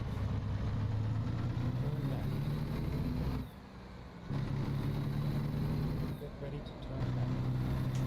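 A truck engine idles in American Truck Simulator, a low, steady diesel rumble with a droning hum. It briefly drops away twice before returning at the same level.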